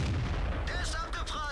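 In World of Tanks, a tank shell strikes an enemy's gun mantlet and bounces off: a low cannon boom, then ringing metallic ricochet whines.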